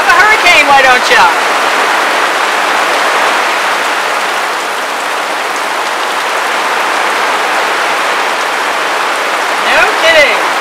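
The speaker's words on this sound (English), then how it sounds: "Wow! Have a hurricane, why don't you?" Heavy storm rain pours down in a steady, loud broadband roar that holds for the whole stretch, with a speaking voice briefly heard at the start and again at the end.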